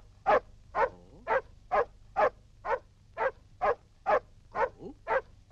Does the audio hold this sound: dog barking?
yes